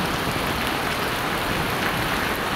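Heavy rain pouring down in Bahrain, a dense, loud, unbroken hiss of drops striking surfaces close by.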